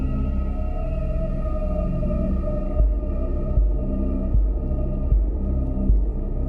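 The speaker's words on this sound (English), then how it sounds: "thumping heartbeat sound" Thumping heartbeat theme music from the video game Subnautica: a low droning hum with deep, regular heartbeat-like pulses repeating about once a second, heard alone and fairly steady in volume.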